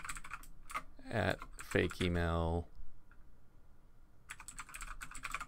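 Someone types an email address on a computer keyboard, with quick bursts of keystroke clicks at the start and end and a voice speaking briefly in between.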